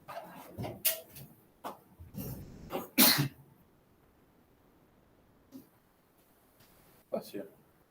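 A sharp sneeze breaks out in a math classroom, loud and close, among other short bursts of noise and coughs, with quiet murmurs after.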